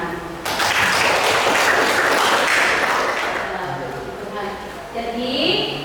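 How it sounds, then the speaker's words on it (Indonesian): A classroom group breaks into a burst of hand clapping that fades after a few seconds, while speech carries on over the applause and after it. "Ya, kita beri tepuk tangan."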